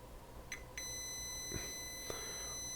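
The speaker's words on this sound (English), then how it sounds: "So we're going to get a beep and we're going to get 0" Continuity beeps from a multimeter with probes on a circuit board ground while hunting faulty capacitors behind a missing backlight; two short beeps come close together near the start, steady and clear over quiet room tone.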